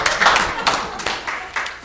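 Several hand claps ring out in quick succession at an Atwater city council meeting in 2019. The loud, slightly uneven claps come from one or a few people close by.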